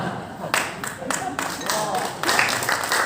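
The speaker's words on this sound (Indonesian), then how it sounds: "Yang tepuk tangan ini aktivis maulidan ini." Audience applause and clapping at an Islamic religious lecture, a broad wash of claps swelling in bursts over about three seconds, fairly loud throughout.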